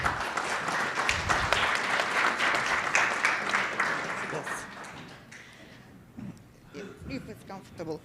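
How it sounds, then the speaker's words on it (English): Steady audience applause at a startup awareness session greets an invited fintech co-founder for about five seconds, then fades out as a speaker begins talking. "Please give a round of applause."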